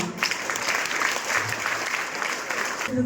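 Students in an orientation class clap together in a sustained round of applause, dense and fairly loud throughout, with some voices mixed in.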